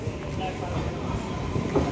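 A passenger train pulls up to a station platform with a broad, steady rumble of rolling carriages, close and continuous through the short stretch.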